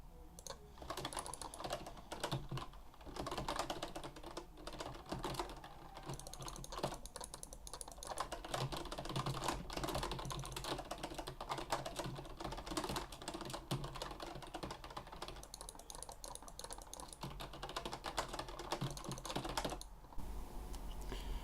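A computer keyboard is hammered in rapid, dense bursts of key clicks during a StarCraft Terran fight, fast continuous typing that barely pauses and stays close and crisp throughout.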